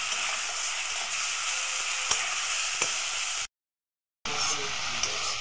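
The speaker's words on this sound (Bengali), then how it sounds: "মশলাটা কষিয়ে নেব।" Spice paste of chili powder, cumin powder and salt frying in oil in a pan, giving a steady soft sizzle with a few small clicks, broken by a brief silent gap.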